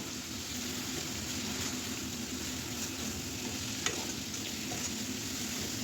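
Fish pieces are stirred into frying masala, a steady, fairly quiet sizzle with one sharp tap of a spoon partway through and no voices.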